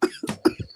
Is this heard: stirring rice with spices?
no